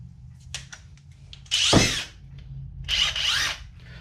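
A Matco MCL1638HIK2O impact wrench running in two short bursts, the first brief and sharp, the second a bit longer, with quieter handling noises between them.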